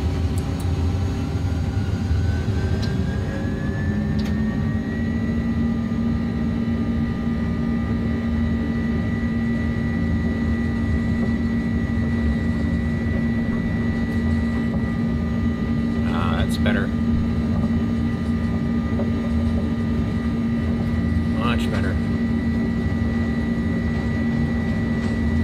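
Airbus A300-600F jet engines in a flight simulator spool up to takeoff power, a rising whine over the first few seconds settling into a loud, steady roar that drones on throughout.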